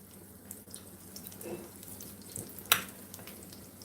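A salmon patty test piece made with green onions, cornmeal and flour fries in hot oil, giving a soft, faint sizzle with scattered pops and one sharp crackle near the end.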